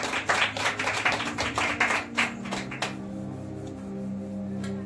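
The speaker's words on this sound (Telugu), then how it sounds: "చప్పట్లు కొడదాం దేవునికి మహిమకరంగా" Congregation clapping at a Sunday church service, a dense burst of hand claps for about three seconds that stops abruptly, leaving a low sustained hum.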